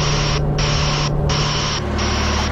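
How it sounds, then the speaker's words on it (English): A broadband white-noise vehicle reversing alarm: a steady hiss pulsing on and off in long bursts, about three cycles, loud and continuous with a low hum underneath. "the BBS Tech back alarm makes a sound like this"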